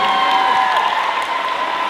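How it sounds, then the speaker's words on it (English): Brief audience applause and cheering at a keynote for a Canadian student leadership conference, a loud, dense burst of clapping from a large crowd that holds steady for a couple of seconds. "give them a huge round of applause"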